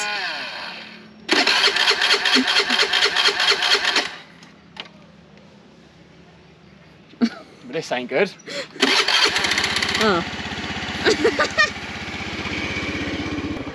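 A motorcycle engine struggling up hills in North Bali revs and strains in loud bursts, sputtering between efforts, with voices talking near the end as it idles roughly.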